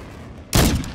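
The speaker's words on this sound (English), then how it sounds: "Tossing grenade!" A grenade detonating in Call of Duty Modern Warfare II, one sudden loud close blast that cuts in abruptly halfway and rumbles heavily to the end.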